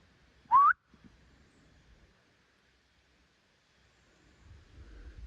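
A single short, rising whistle from a person in a quiet mountain forest, clear and close, followed by near silence and faint rustling.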